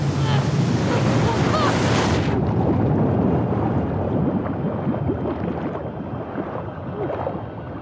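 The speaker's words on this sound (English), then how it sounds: "I think there's a wave coming." Ocean waves in The Last of Us Part 2 Remastered roar and wash in a dense, continuous rush, loud at first and then easing slightly into a steady churning surf.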